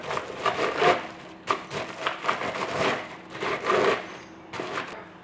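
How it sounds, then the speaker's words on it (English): 400 grams of Weet-Bix breakfast cereal biscuits being crushed by hand, a series of close, dry crunching and crumbling bursts in irregular rhythm, with no speech. "take your 400 grams of Wheat Bix and just crush them just a little bit"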